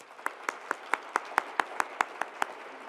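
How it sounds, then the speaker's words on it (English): Steady, evenly spaced audience applause at a faculty awards ceremony, about a dozen crisp claps in a regular rhythm, fairly quiet and without talk. "Let's give them one last round of applause."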